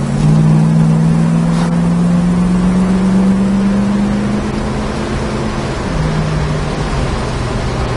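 A 1966 Ford Mustang K-code fastback built as a Shelby GT350 tribute drives along, its engine holding a steady low drone with a slight pitch rise and dip, continuous and fairly close with no talk.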